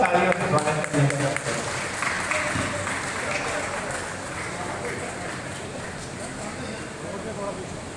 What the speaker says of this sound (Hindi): कृपया तालियों से, भरपूर तालियों से स्वागत करें।